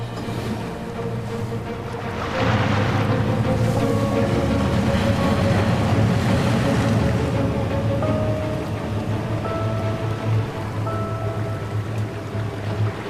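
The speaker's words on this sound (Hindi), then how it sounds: "इंजन शुरू करो।" A boat engine starts up on open water and settles into a loud, continuous rumbling run, layered with a steady wash of water and spray that persists throughout.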